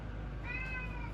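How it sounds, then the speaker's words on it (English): A house cat meows once, a short, clear call standing out over a steady background hum, with no talk during it. "My cat wants to go."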